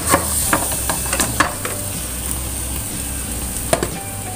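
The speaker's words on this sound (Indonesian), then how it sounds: "kemudian dioseng kembali" Fried ground spice paste stir-fried in a pan for spicy salted fish with coconut milk, tempeh and tofu, a steady sizzle punctuated by sharp spatula clacks and scrapes, close and with no voices.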